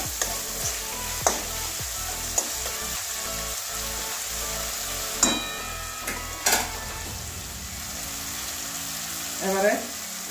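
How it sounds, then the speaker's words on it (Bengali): Turmeric and sugar are stir-fried in a pan with a bright sizzle, punctuated by scattered spatula clinks and scrapes at an irregular pace. "এক মিনিট কষানো হয়ে গেল আমার হলুদ আর চিনি দেওয়ার পরে"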